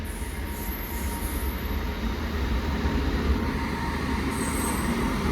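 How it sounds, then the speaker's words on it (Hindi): A Sabarmati train arriving at a station platform without sounding its horn: a steady rumbling roll of carriages with faint wheel squeal, continuous and fairly close. "ये देखो चुपचाप अराइवल कर रही है 2 नंबर प्लेटफॉर्म पे।"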